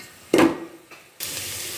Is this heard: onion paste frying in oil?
yes